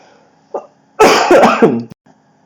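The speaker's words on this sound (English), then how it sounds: "I had another cough." A single harsh cough, loud and close, preceded by a short throat sound, then quiet.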